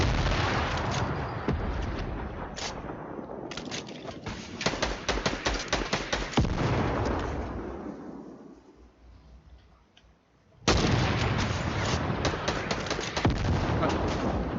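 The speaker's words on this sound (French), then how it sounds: "Fais gaffe, il leur balance des grenades." Fortnite gunfire crackles in dense rapid bursts with sharp individual shots, fading to near quiet before another loud burst resumes, suggesting grenade blasts and firefights; players talk over parts of it.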